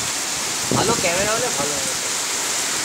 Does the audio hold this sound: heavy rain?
yes